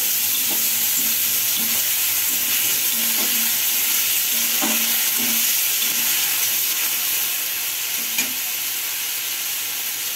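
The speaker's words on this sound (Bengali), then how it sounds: "পেঁয়াজ কুলি দিয়েছি, দিয়ে একটু নেড়ে চেড়ে নিচ্ছি।" Onion stalks and flat beans sizzle steadily in a hot pan with fish curry ingredients while a spoon stirs them, giving a constant close frying hiss broken by faint rhythmic scrapes and taps.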